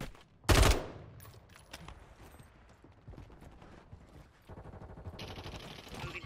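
Call of Duty gunfire from an AMR9 loadout: a loud close burst near the start, then scattered shots and rattling mechanical clatter, with a sustained rapid automatic fire run building toward the end.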